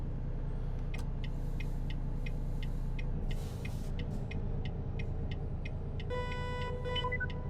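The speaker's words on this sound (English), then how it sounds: "Not a fan of the horn." Truck horn in American Truck Simulator: a series of short repeated honks and a few longer blasts over a steady engine rumble inside the cab, with no talking.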